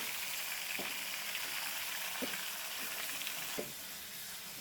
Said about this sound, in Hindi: गोश्त को हमने ना प्याज में, जो हमने प्याज ब्राउन की है खड़े मसालों के साथ, अच्छी तरह चलाना है